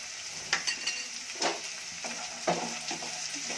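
Green peas and chopped onion frying in a pan for Bombay saagu, with a soft steady sizzle broken by several scraping stirs at irregular intervals, close and fairly quiet.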